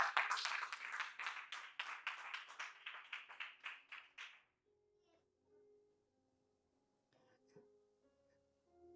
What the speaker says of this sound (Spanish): Denle un aplauso fuerte al Padre